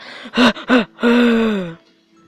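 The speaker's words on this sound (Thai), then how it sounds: "หายใจดังนะ" Heavy, voiced breathing close to the microphone: two quick sharp gasps, then a long drawn-out groaning exhale that fades, with a faint breath at the end.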